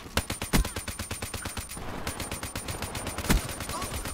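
Man-O-War rifle fire in the Black Ops 3 video game rattles out as fast, loud automatic bursts, with a brief pause in the middle and a few heavier blasts mixed in.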